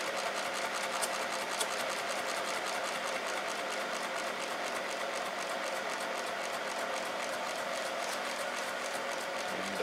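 A solenoid motor built from a weed whacker runs with a smooth, continuous mechanical buzz and rapid, even ticking at low RPM, close and steady throughout with no voices.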